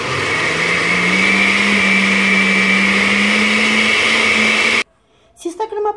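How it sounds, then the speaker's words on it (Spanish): A blender whirs loudly and steadily for nearly five seconds whipping cream, its motor droning close with a slight rise in pitch, then cuts off abruptly, followed by a short burst of voices and clatter. "Y licuamos."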